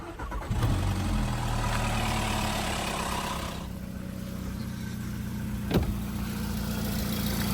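A VW Golf 1.6 FSI with a chain-driven engine cranks and starts, then settles into a steady close idle with a rattling, mechanical edge and a brief sharp knock partway through; no one speaks.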